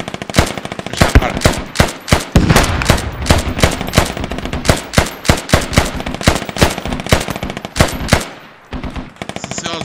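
Rapid automatic gunfire from the video game Squad during a hillside battle: loud, dense bursts of close machine-gun fire rattle almost continuously for nearly nine seconds, then cut off abruptly.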